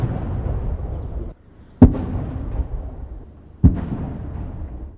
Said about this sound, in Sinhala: අනතුරුව ජනාධිපතිවරයා වෙනුවෙන් ආචාර වෙඩිමුර 21ක් පිරිනැමුණා.